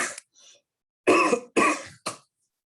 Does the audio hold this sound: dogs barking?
no